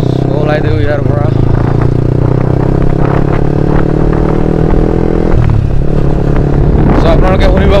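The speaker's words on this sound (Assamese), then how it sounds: "চ' আপোনালোকে শুনিব পাৰিছে একজষ্টডাল আকৌ লগাই দিছোঁ" A Yamaha R15 with an SC Project CRT exhaust runs nearby with a loud, buzzing engine note that rises and shifts, while someone talks over it throughout.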